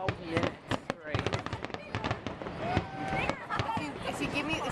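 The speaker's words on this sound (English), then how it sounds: "No one is gonna sit here and watch fireworks for 12 minutes straight." Fireworks bursting at a Fourth of July celebration, with repeated sharp crackling pops and bangs in rapid succession and a whistling rocket streak, mixed with background voices.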